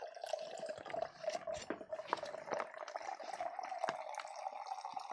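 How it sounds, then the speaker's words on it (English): Cider pours into a glass with a steady liquid trickle and scattered drips and splashes, close and fairly quiet, with no talking. "I'm going to pour some more cider for myself."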